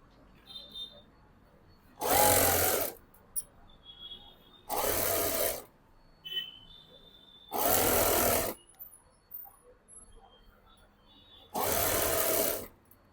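A sewing machine stitching folded blouse fabric runs in four separate whirring bursts, each lasting about a second, with quiet pauses and faint handling noises between them.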